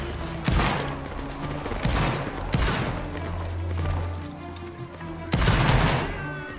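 Musket volleys from Napoleonic reenactors outdoors, three loud ragged bursts of many shots fired nearly together, each rolling briefly before fading, with faint activity between.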